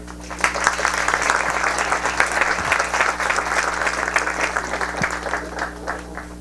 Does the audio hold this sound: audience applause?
yes